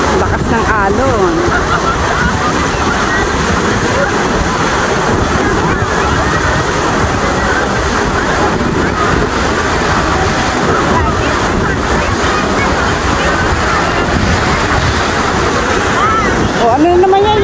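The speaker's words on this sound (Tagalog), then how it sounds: "Lakas ng alon." Strong surf and churning water at Niagara Falls, a loud steady roar with wind buffeting the microphone, while family members chat briefly over it.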